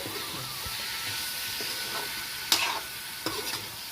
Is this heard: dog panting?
no